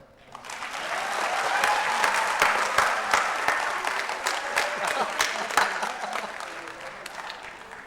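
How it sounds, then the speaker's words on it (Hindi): An audience at a ghazal and Sufi music evening in Rewa breaks into applause, quickly swelling into a loud, dense clatter of many hands that holds and then gradually thins out, with a voice or two underneath. "तालियां"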